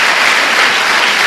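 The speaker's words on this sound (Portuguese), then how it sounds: "Dê uma salva de palmas ao Senhor." A burst of steady applause from a church congregation, many hands clapping at once, loud and dense with no voices over it.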